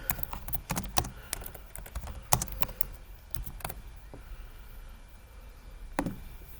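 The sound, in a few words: typing on a computer keyboard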